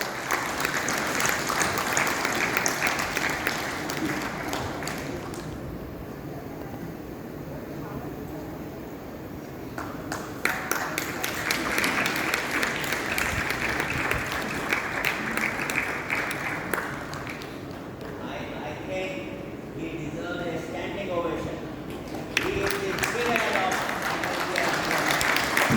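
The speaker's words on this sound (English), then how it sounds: "Give him a big round of applause." Conference audience at an annual meeting's awards ceremony applauding an award recipient: dense, steady clapping from a large room, sustained throughout with slight swells and dips.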